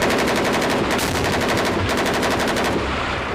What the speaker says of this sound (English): And the machine gun, absolutely brilliant.